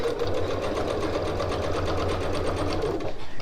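A sewing machine stitches a tote bag seam at a steady rapid pace, its even mechanical hum and needle chatter running continuously up close before easing near the end.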